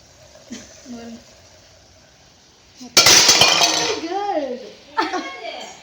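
A metal idli steamer pot and its lid clatter and clink loudly in a sudden burst of metallic crashing midway through. A voice talks in the quiet before it and under the ringing that follows.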